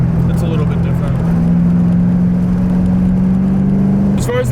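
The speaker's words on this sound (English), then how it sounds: "when you actually run the car hard, you can actually hear the exhaust open up" A Ford Mustang GT drives under hard acceleration, its engine and exhaust droning loudly and steadily close up with a sustained low tone that rises toward the end.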